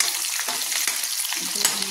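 Onions and soybean chunks frying in hot oil give a steady, dense sizzle with faint crackles and stirring scrapes, close and continuous with no talking.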